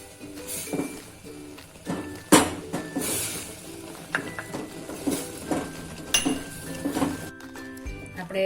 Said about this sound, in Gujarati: હવે તેને આપણે વેલણ વડે આ રીતના થોડો થોડો લોટ નાખતા જઈશું, હલાવતા જઈશું।